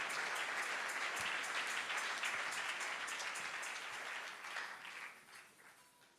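A church congregation applauding, a dense wash of many hands clapping together that gradually thins and fades toward the end.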